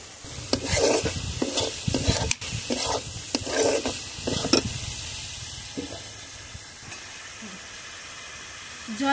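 Meat, mung dal and ground spices stir-fried together in a pot: a steady hiss of frying with rhythmic spoon strokes in the first half, then a softer simmering sizzle.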